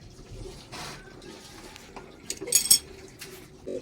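A metal tawa griddle is set onto a kitchen stove, giving a few faint metallic clinks and scrapes that end in a brighter clatter, with quiet kitchen noise between and no voices.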